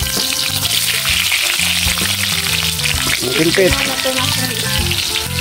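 Hotdogs frying in a hot pan, a steady loud sizzle and crackle running throughout, with a person speaking over it.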